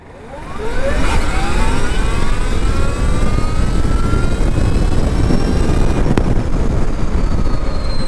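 An Ultraviolette X47 electric motorcycle accelerating from 0 to 100 at full throttle, a loud rising electric whine with climbing tones over heavy rushing wind noise that builds within the first second and stays constant.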